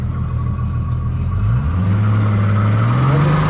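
The outboard motor on a 2022 Willie Boat 22-foot boat runs in gear with a loud, steady rumbling drone that rises in pitch partway through as the engine revs up, and no voices.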